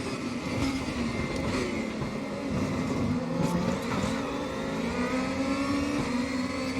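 A BMW M4 DTM race car engine in RaceRoom at Zolder drones loudly and continuously, its pitch rising and falling through gear changes and corners, with no talking.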